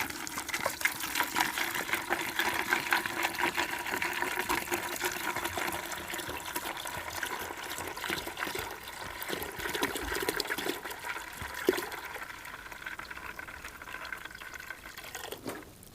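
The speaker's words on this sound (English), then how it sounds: "And then I go and I add the water." Water poured from a gallon jug into a bucket of beet pulp pellets for horse feed, a steady rushing splash that runs unbroken for the whole stretch at even loudness, ending with a few faint knocks.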